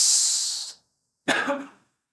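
A throat-clearing sound: a breathy hiss followed, after a brief pause, by a short rough rasp, close and fairly loud, with no talking.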